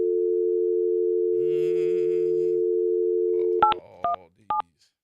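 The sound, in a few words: telephone call being placed, dial tone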